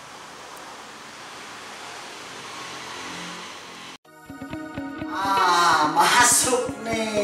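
A cheap mini air pump inflates a tire beside a well, heard as a loud rhythmic mechanical chugging that starts abruptly after a stretch of hissing background noise.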